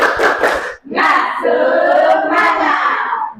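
A group does a 'tepuk semangat' spirit-clap icebreaker, clapping in rhythm and shouting together in a loud chant, with a brief pause between the clapped beats and the drawn-out shout.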